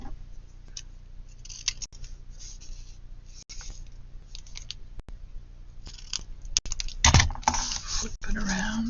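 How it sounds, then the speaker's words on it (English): Scissors snip tag cuts into the corners of paper faux tickets at a craft table, a few quiet crisp cuts followed by louder rustling and handling of paper near the end. "on these ones you can actually do a tag cut on the corners"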